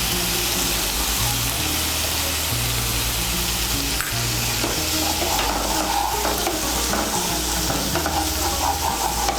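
A spice paste of chilli powder with salt is stirred and fried in a pan for a prawn and taro-stem curry, giving a continuous, fairly loud sizzle with repeated scraping from the stirring spoon.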